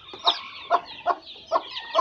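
A hen clucks in a rhythmic series of five or six short, close clucks spaced about half a second apart, with no talking over them.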